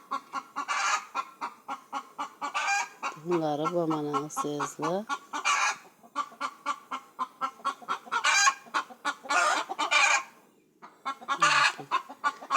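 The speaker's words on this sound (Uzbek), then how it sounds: "Xo'rozni qarang, qanday chiroyli tovuqlari ham. Zalotay tovuqlar." A rooster and golden hens cluck in a busy run of rapid, repeated calls, with a longer drawn-out crow-like call in the middle; someone speaks briefly over the birds.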